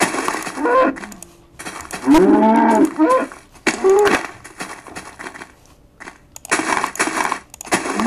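A Minecraft cow lets out a loud, close moo, followed by a shorter second call, set among crunching block sounds and small clicking game noises.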